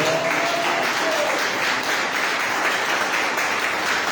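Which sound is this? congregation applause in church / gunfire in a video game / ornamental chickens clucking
congregation applause in church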